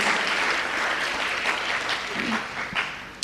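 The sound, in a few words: congregation applause to God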